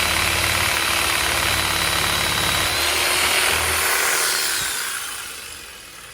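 Saw cutting through pool plumbing pipe while replacing worn suction valves, a loud continuous grinding buzz that runs steadily for several seconds, then tapers off near the end.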